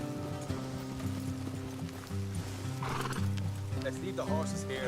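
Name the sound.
horses neighing in Red Dead Redemption 2 video game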